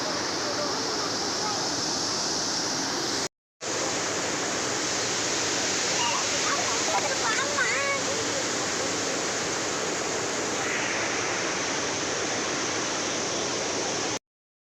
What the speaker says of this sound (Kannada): ಇದು ಬಲ್ಮುರಿ ಫಾಲ್ಸ್ ಆಗಿರುತ್ತೆ.